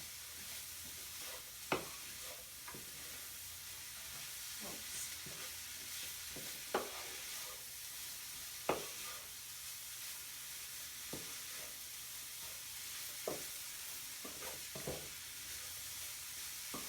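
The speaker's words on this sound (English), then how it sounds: "we're just going to stir fry this for about a minute" Vegetables stir-fried in a pan for about a minute, a steady soft sizzle running throughout with sharp scattered clicks and scrapes of a utensil against the pan.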